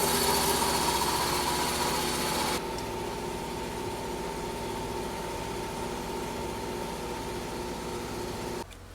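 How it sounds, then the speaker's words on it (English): Air compressor feeding a Skat blast cabinet, a constant hum and hiss with a noisier burst at the start, then a steady drone that drops off near the end. "We'll have to turn the compressor on."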